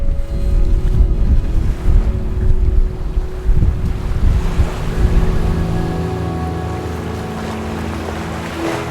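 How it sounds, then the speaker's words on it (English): Strong coastal wind roars and buffets the microphone, with a low continuous rumble of surf behind it. "Holy cow, it's windy over here too."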